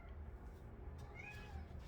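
A pet cat meows indoors, a single soft, rising cry heard over a faint low room hum, fairly quiet and close.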